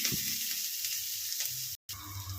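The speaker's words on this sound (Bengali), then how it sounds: "পেঁয়াজটা ভেজে নিয়েছি" Onions fry over high heat for Chicken Manchurian with a dense, constant crackling sizzle, close and continuous with no voices.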